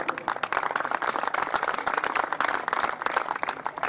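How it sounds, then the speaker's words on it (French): Audience applause for karting drivers as they are introduced before heading to their karts: dense, steady clapping from a crowd at moderate distance, continuous throughout without a break. "Allez, on les applaudit encore une fois là"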